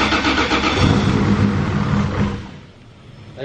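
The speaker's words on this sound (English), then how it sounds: "There you go. Fire it up." Brand-new 3.4L 2JZ engine cranking and catching, roaring loudly to life with a rough, revving burst before the sound drops away toward idle; no one speaks.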